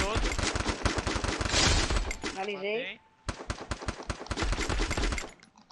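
Rapid bursts of M4 rifle fire in a video game crackle loudly and almost continuously, broken by a short gap near the middle, with players talking over the shooting.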